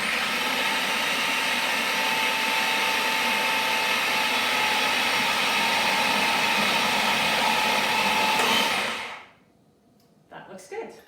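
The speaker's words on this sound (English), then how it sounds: "Now I'm going to add the egg yolk mixture in while I have my mixer running on low" Electric mixer whirring steadily on a low setting while mixing pie dough for butter tarts, a continuous close motor drone that cuts off near the end, followed by a few soft handling noises.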